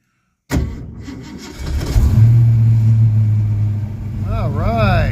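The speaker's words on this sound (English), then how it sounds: "True cold start after 2 weeks of winter." A 1982 Ford Mustang engine cold-starts after two weeks of winter, cranking briefly before catching into a loud, rough idle that settles and steadies, with a short revving wobble near the end.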